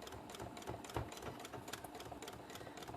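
A sewing machine runs a steady, rapid stitch forward and back along a fabric bag, its close mechanical chatter pulsing evenly and unbroken for a few seconds.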